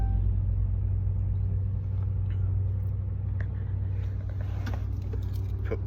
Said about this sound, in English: It starts the truck.